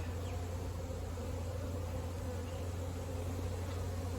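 Honey bees in a beekeeper's nuke hive, with hive beetle damage on the frames, give a steady low buzzing drone that stays even and continuous throughout with no voices.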